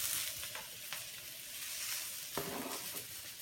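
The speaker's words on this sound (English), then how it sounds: "I'm gonna add the garlic now" Garlic hits a hot pan among browning food, a steady broadband sizzle with a fresh burst of crackle partway through and light stirring scrapes, close and continuous with no voices.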